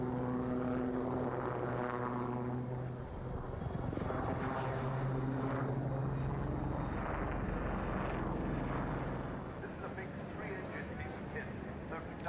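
A Lynx naval helicopter maneuvers at the RIAT 2002 air show at RAF Fairford, a loud, continuous engine and rotor drone with rising and falling tones, while a commentator talks over it.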